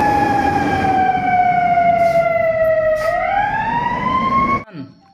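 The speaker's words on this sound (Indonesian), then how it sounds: "Ini ada mobil pemadam kebakaran" Toy fire truck siren wailing steadily for several seconds, its tone slowly dipping and then rising again before cutting off abruptly, loud and close with no talk over it.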